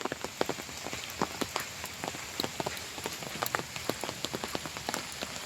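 Steady rain patters on surfaces along a walkway during a trip in Nepal, a dense hiss of close, crisp drops with no voices.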